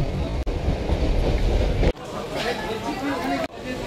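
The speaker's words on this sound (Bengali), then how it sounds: "এটা হচ্ছে কাটোয়া ব্যান্ডেল লোকাল, যেটা ব্যান্ডেল স্টেশনে 4 নম্বরে ঢুকছে" A Katwa–Bandel local train pulls into platform 4 at Bandel station, its loud rumbling wagon noise rolling past close by, with people talking and platform chatter throughout.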